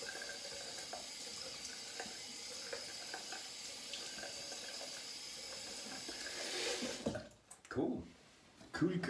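Running tap water while a face is rinsed after a shave, a soft steady splash and hiss at the sink, ending in a few louder splashes near the close.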